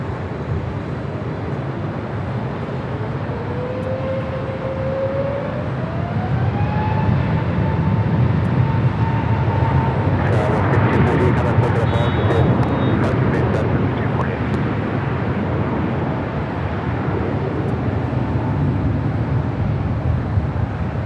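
Boeing 747-8 cargo jet taking off on the south runway, a heavy sustained engine roar that swells midway and stays loud, with a rising whine and a few faint clicks over it.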